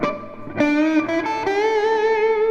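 A slow distorted electric guitar pentatonic lick, a few sustained notes stepping upward, each held with a singing tone, loud and alone.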